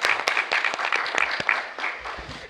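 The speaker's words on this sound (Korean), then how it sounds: "같이 박수를 청하겠습니다" An audience at a conference session on Korea–US–Japan cooperation applauds. Sharp individual claps stand out over a fuller round of clapping, which thins out toward the end.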